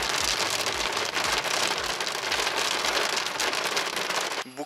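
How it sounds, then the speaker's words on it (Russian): Heavy tropical downpour in Chiang Rai, Thailand, with water flooding the roads: a dense, steady roar of rain beating on surfaces, loud and continuous without a break, then fading briefly at the very end. "Ну, слушай, ливень такой приличный"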